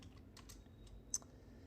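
Quiet typing on a computer keyboard while writing Android code, several light key clicks spread across a short moment, one sharper tap standing out, no voices.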